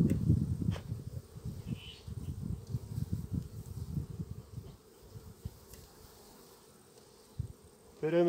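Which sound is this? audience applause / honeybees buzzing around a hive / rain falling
honeybees buzzing around a hive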